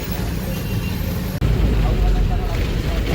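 A city bus rolls through Kolkata traffic near Lalbazar, its engine rumble and road noise steady and close, with a brief dip midway and voices talking over it.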